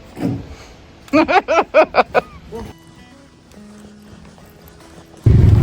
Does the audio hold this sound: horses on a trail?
yes